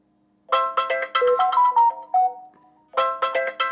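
A phone ringtone plays a loud, bright melodic phrase of quick chiming notes, pauses briefly, then starts repeating, close and clear.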